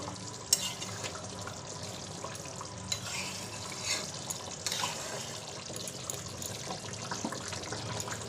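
Meat cooking in a pan in a home kitchen, a steady sizzle and frying hiss with occasional scraping stirs and watery sounds, continuous and close, with no voices.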